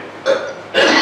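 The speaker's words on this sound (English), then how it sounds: "I'm just coughing." Two short, harsh coughs, one after the other, close and loud, with a brief pause between them, during a city board of aldermen meeting.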